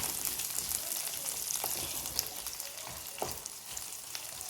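Small onions (shallots) frying in oil until browned, giving a steady close sizzle with a few soft stirring clicks and no voices.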